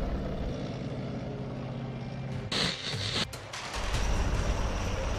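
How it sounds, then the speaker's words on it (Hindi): A Dhruv helicopter flies past during a Republic Day parade, a steady rotor and engine drone with a couple of brief abrupt shifts, heard without any talking. "परेड में ध्रुव हेलीकॉप्टर का जलवा देखने को मिलेगा"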